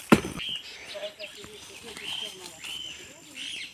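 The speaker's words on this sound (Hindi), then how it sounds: "यहाँ पे तोता की बहुत ही मीठी मधुर आवाज़ सुनने को मिल रही होगी आपको" Parrots calling in dense forest: short, sweet chirps and whistles scattered across a few seconds, fairly faint and distant, with a sharp knock at the start and a soft background hiss.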